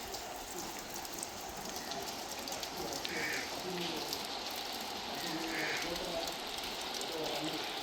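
Heavy rain pours steadily during a sudden downpour in Jaffna, a dense, even hiss of drops on surfaces that holds without a break throughout, with no voices.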